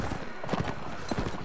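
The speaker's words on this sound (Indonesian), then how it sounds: "Kuda gua larinya lemot." Horse galloping in the video game Mount & Blade: Warband, rapid uneven hoofbeats clattering close by amid battle noise, with faint voices underneath.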